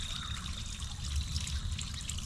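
Water trickles and splashes steadily as it is poured into a pump housing to prime the pump, a continuous close-up stream of liquid with no voices.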